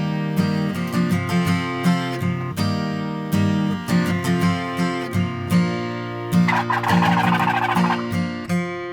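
Wild Ocellated and Merriam's turkeys gobble and cluck repeatedly, several birds overlapping in rapid, warbling bursts that stay loud and close throughout.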